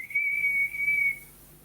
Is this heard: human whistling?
yes